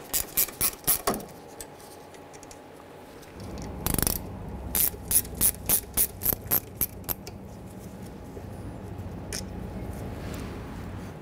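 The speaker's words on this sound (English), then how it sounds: "We're gonna use our gear wrench." A Gear Wrench ratchet loosens the 14 mm caliper slide pin bolts on a 1994-2004 Ford Mustang: sharp metallic clicks near the start, then a longer rhythmic run of loud, close ratchet clicks that gradually fades, with no talking.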